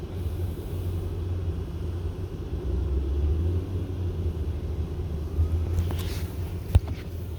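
A car driving on the road, heard from inside as a steady low road rumble with a single small knock near the end.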